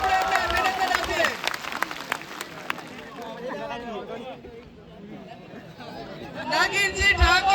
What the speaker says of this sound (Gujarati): એમના તાળીઓ સાથે આપણે એમને અભિનંદન આપીએ